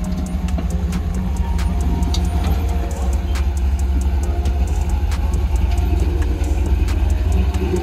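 A Jeep crawls down a steep sandy cliff trail at midnight, its engine a steady low rumble with faint crunching and clatter, continuous and close, with no talking.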